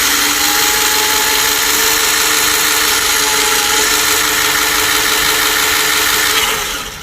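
Haiboxing 12891 Dune Thunder 1:12 scale RC dune racer with its electric motor running on the bench, a loud steady high whine with a ratcheting gear buzz that holds for several seconds before tapering slightly.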